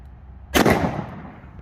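A single .38 Special round fired from a Chiappa Rhino revolver: one sharp, close crack with a short fading echo tail, alone without talk.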